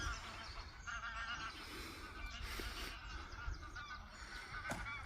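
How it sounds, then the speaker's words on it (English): Geese honk repeatedly in a noisy flock, overlapping calls rising and falling over rustling outdoor background noise. "Watch the geese, mate."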